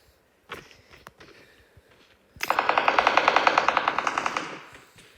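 Automatic gunfire in the mobile battle royale game PUBG Mobile: a few single shots, then a long, loud, rapid burst of machine-gun fire that trails off near the end.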